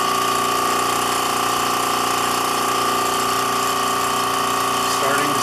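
A vacuum pump draws down a carbon fiber and half-inch end-grain balsa firewall layup, giving a loud, steady, continuous mechanical hum that runs unbroken from start to finish.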